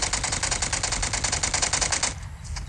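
A UMP submachine gun sprays rapid automatic fire in PUBG Mobile, a dense, loud, evenly spaced burst of shots that stops abruptly just before the end, with no talk over it.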